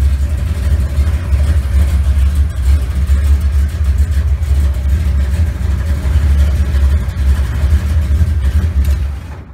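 A cold GM car engine with an internally regulated three-wire alternator conversion idles at low RPM, a loud, steady low rumble close to the microphone that holds evenly before fading at the end.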